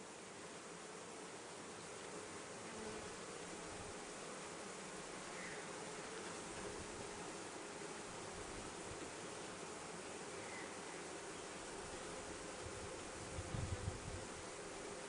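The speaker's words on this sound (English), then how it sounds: "move some of these bees out of the way" Honey bees hum in a continuous, dense buzz from an open top bar hive, close and steady, with a brief louder rustle near the end; no voices.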